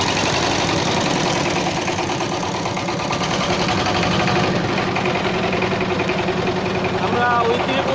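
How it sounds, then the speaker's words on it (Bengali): Boat engine running steadily on a river crossing toward a ghat, a constant loud mechanical drone filling the whole stretch, with faint talk and wind noise underneath. "নৌকার ইঞ্জিন"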